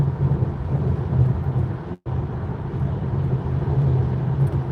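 Loud, steady tyre and road roar inside a moving Tesla on a highway trip in Arizona, a constant low rumble with a brief dropout partway through.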